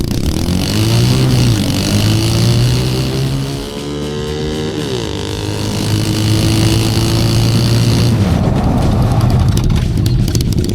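An Amazon mini jeep races downhill in a time trial, its small engine whining loudly and steadily, pitch wavering and briefly dipping midway before climbing again, close to the listener with no talk.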